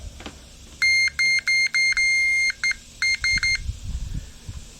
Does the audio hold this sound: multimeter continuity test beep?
yes